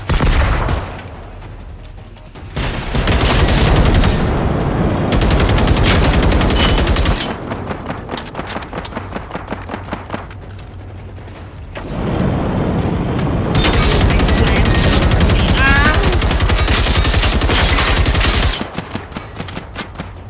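Heavy gunfire in the co-op video game Generation Zero, with loud bursts of rapid automatic fire and dense fusillades in long stretches, separated by quieter gaps of scattered single shots.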